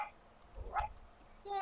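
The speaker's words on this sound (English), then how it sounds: "I thought you had a dog. I was thinking, am I hearing things?" A small puppy gives a couple of short, faint yips and barks indoors, close by, with people talking over it.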